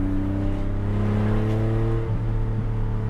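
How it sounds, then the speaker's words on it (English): The air-cooled engine of a restored 1980 Porsche 911 revs up close and loud, a steady harmonic drone that lifts in pitch and wavers near the end, with no voices. "You can't beat the sound of an air-cooled engine."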